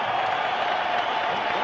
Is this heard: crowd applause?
yes